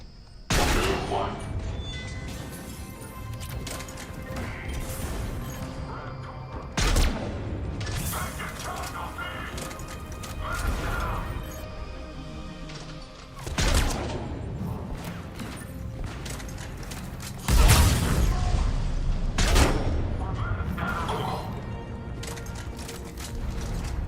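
Turret fight in the Mass Effect 3 game: repeated bursts of gunfire and heavy impacts, with several loud blasts near 7, 14 and 18 seconds, over a dense backdrop of combat noise and mechanical clatter, while voices talk throughout.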